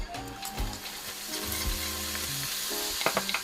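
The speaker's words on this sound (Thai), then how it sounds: "ใส่ลงไปแล้วก็ทำการผัดคลุกเคล้าไปกับเนื้อทูน่าได้เลยนะครับ" Freshly cooked rice is stir-fried with oily canned tuna in a pan, giving a soft sizzle with scraping and stirring clatter from the utensil, irregular knocks and clicks near the close.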